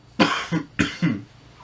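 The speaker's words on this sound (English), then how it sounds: "sorry, I'm gonna pop in a cough drop right now before my cough gets out of control" Two pairs of harsh coughs, each a sharp burst followed by a shorter second hack, close and loud with brief pauses between.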